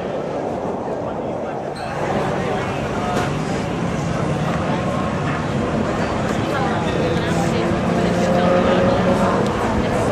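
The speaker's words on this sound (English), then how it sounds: "We've got our uh, Southern California's finest drifters coming on track right now" Southern California drift cars, including a 1995 240SX with an LS7 engine, roll onto the track at the Coronado Speed Festival in San Diego. Their engines give a continuous, rising roar under a public-address voice and crowd noise.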